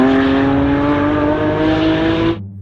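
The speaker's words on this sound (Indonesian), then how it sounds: "Yang ini mobil balap" A toy race car's motor whirs steadily and loudly at close range with a constant pitch, then cuts off abruptly near the end.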